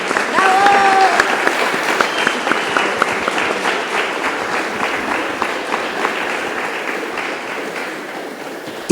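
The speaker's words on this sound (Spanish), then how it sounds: "Un fuerte aplauso a nuestros panelistas." Loud audience applause for panelists at a seminary panel event, a dense, sustained burst of clapping that starts strong and gradually thins toward the end.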